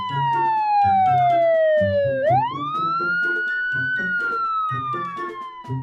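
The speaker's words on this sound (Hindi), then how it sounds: "एम्बुलेंस घूम रहे थे।" An ambulance siren wails loudly as it drives around a village at night, its long sweeping pitch falling and then rising again as it passes close by, with steady background noise underneath.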